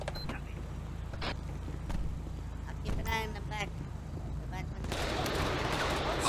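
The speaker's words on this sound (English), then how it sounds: "Shots fired! Shots fired!" Gunfire in GTA V during an LSPDFR police shootout, with scattered sharp shots and bursts over traffic and ambient noise, voices shouting nearby.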